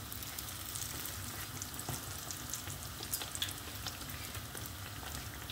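Dough frying in well-heated oil, a steady dense sizzle and crackle with scattered sharper pops, constant and close throughout with no voices.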